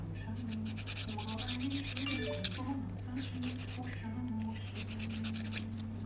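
A nail file rasps back and forth across natural nails at an angle in a nail salon tutorial, rapid repeated scraping strokes, close and fairly quiet, under a steady low hum.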